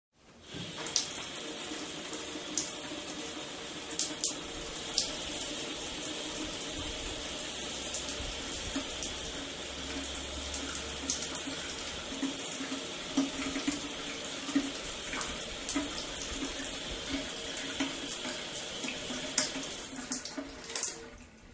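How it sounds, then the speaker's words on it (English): A cold shower runs steadily for about twenty seconds, a loud continuous hiss of falling water with occasional splashes and no voices. "Okay, cold shower is over."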